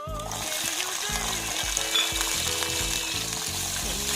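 Urad dal, chana dal and dried red chillies frying in sesame oil for a thuthuvalai chutney, a steady close sizzle and crackle, with faint background music.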